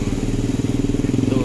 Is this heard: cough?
no